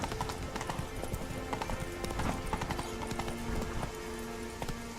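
Horse hooves clip-clop at a steady galloping rhythm in The Witcher 3, fairly loud and continuous, with game ambience and occasional faint voice underneath.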